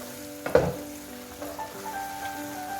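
Prawn masala frying in ghee for a prawn ghee roast while being stirred, with a sharp scrape of the spoon early on followed by a low, steady sizzle and soft stirring sounds, close and fairly quiet.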